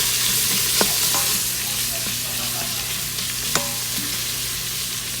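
Onion sautéing with bacon in a pan for charro beans, a steady close sizzle and fry with a few sharp utensil clicks and stirring scrapes over it, no voices.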